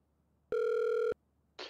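A telephone ringback tone sounds once while a call is placed, a steady electronic tone lasting about half a second, clear and alone in a quiet room, followed by a short burst of noise.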